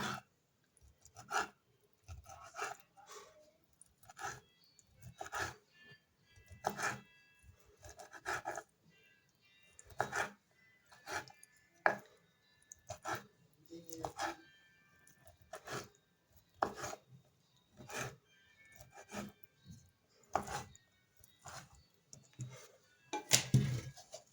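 A knife cuts an orange into three pieces for a salad, giving a series of sharp, irregular chopping thuds on a board, close and alone, spread across the clip.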